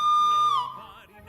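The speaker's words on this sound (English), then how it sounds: "I could have Donald or Douglas's whistle" A steam locomotive whistle in the Railroader video game sounds one steady, clear whistle tone that bends downward and fades within about a second, heard alone.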